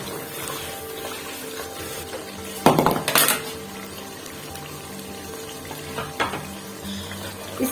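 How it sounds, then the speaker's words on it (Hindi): Masala roasts in a pan for egg korma with a low, continuous sizzle. A few sharp clanks of a spoon against the pan break through in the middle and near the end. "तकरीबन 5 मिनट तक हम इसकी भुनाई करेंगे"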